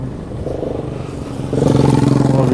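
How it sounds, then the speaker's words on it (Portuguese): A motorcycle moving through street traffic, its engine droning nearby and then growing louder as it revs and accelerates, with rising engine tones and no talk. "Que moto é essa?"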